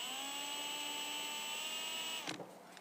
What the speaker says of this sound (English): I put the grinding disc on the grinder, ran the drill and hit it with the grinder